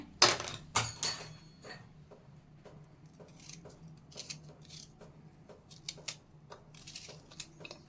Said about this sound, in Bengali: তো পেঁয়াজটা আমি একটু সাইডে কেটে নেবো প্রথমে।